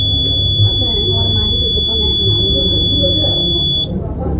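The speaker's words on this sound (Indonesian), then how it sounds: "ini sensor front ini yang bisa menyalakan ke buzzer." A buzzer set off by the front sensor of a flood warning system sounds one continuous, piercing high tone for about four seconds over a low background murmur.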